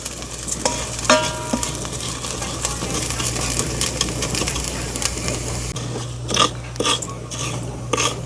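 Rice fries in a pan, a steady close sizzle broken by scraping stirs and clinks of a utensil against the pan, with no talk.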